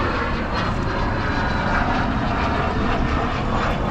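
An airplane passes overhead near a busy airport, its engine roar loud, steady and unbroken throughout.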